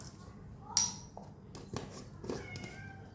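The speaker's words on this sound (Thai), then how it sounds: "น้องแมวอ้อนค่ะเอฟซีค่ะ" A cat gives a short, clear meow up close, followed by softer purring-like sounds and bits of a voice over a faint kitchen background.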